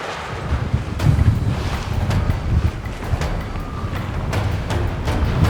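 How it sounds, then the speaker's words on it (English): Strong wind buffeting a microphone outdoors at a 505 dinghy sailing world championship race, with low rumbling gusts rising and falling over rushing water, close and loud, no talking. "Today we've got even more windy conditions as the fleet takes to the water for race number 3."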